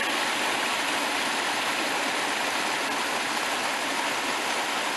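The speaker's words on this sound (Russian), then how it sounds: "Речка." A small river stream in Hedden Park, New Jersey, rushes steadily in a dense, even wash of flowing water, close and constant throughout, with no voices.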